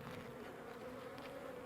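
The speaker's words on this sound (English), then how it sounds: "You can see the bees, all the top white stuff is capped honey." Honey bees hum steadily on a beehive frame of capped honey, a close, continuous buzzing drone from many insects.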